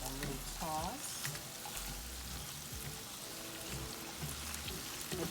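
Shrimp sizzling in a hot pan as they are tossed for Southern-style shrimp and grits, a steady crackling hiss with a few soft stirring knocks and a brief background voice.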